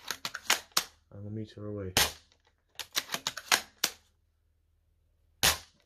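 An airsoft gun at 500 FPS with 0.20 g BBs fires several sharp cracks at NUPROL mesh goggles from about a meter away, the shots clustered in bursts with a voice speaking between them.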